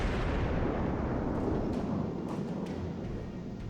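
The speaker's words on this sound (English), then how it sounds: "I am still shooting AP at this guy, because we've got 203mm guns." A salvo of 203mm naval guns firing armour-piercing shells in World of Warships booms as a deep, rumbling blast that decays slowly under low background noise.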